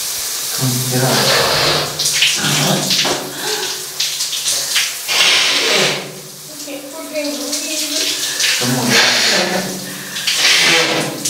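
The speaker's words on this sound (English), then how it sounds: "turn the water off" Shower water runs in a steady broadband hiss through the whole stretch, close and fairly loud, while people talk over it at length.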